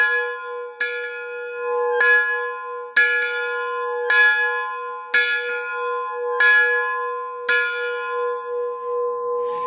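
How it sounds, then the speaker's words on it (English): A steam locomotive bell, unmounted and rocked by a pull cord, rings about seven loud, separate clangs at an uneven pace, each one ringing on and overlapping the next. "you would hear that bell going clang, clang, clang"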